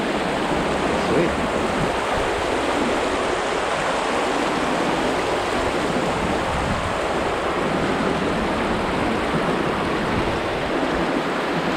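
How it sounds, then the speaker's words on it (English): Creek water flows steadily and loudly through an industrial area, a dense, continuous rushing wash close to the microphone with no breaks. "See, the water's pretty deep here. It's flowing nice."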